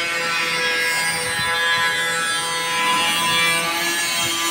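Metal-cutting grinder slicing through corrugated metal roofing sheet during a garage roof and gutter replacement, a steady harsh whine with scraping rasp holding throughout, close and loud.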